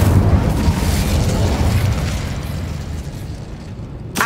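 The Incendio fire spell from Hogwarts Legacy erupts with a loud, close burst of whooshing flame that roars steadily, fades gradually over several seconds, and ends with a short sharp pop.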